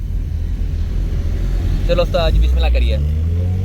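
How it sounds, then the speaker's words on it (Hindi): A car driven hard on a road for a vibration check, low engine and road rumble throughout, rising a little toward the end, while someone speaks briefly over it. "गाड़ी को भगा भू के चेक करते हैं कि वाइब्रेशन किस चीज़ की है, एक्सल की है या किसी और चीज़ की"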